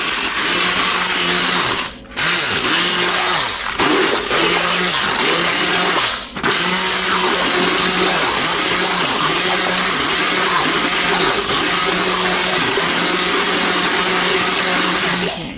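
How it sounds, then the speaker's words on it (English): A blender pureeing pumpkin pie filling with brown sugar runs loud and steady at close range. Its constant motor whine dips briefly twice while it keeps churning, and no one talks. "a blender or a hand blender, something to puree the whole thing"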